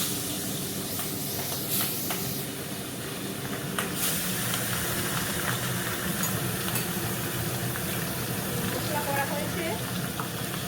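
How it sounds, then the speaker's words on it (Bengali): Pabda fish fry in a hot pan with a steady, close, continuous hiss and sizzle that holds at an even level throughout, with a few brief crackles. "পাবদা মাছ ভাজা হচ্ছে"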